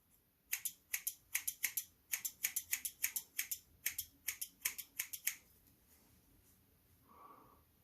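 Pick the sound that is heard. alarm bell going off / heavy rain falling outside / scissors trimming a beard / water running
scissors trimming a beard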